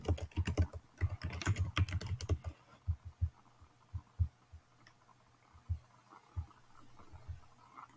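Typing on a computer keyboard while filling in an invoice number, a dense burst of rapid close key clicks that thins into slower, scattered single taps and thumps.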